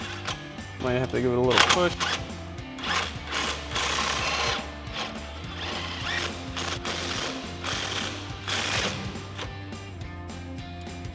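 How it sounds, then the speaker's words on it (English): A ratchet with a 21mm socket runs a control arm bolt out on a RAM 1500 TTX front suspension, giving steady rapid clicking throughout with brief spoken remarks over it. "grab a 21mm socket, get it on the bolt head and run this out."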